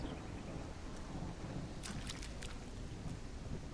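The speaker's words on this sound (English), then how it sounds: "the rain will just stop at a certain point because we've just got it running in certain areas" Rain falls in the fields of the video game Coreborn: Nations of the Ultracore as a steady, dense hiss with a few faint crackling drops, even and unbroken, with no voices.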